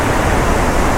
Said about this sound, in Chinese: 看这个瀑布